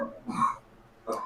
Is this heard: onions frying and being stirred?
no